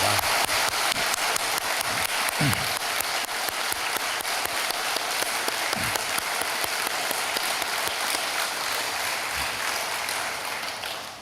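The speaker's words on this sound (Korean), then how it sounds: "우리 뜨거운 박수로 격려하도록 하겠습니다." Congregation applauding at a Korean church early-morning special prayer service, a steady dense wash of clapping that holds at an even level for the whole stretch and tails off right at the end.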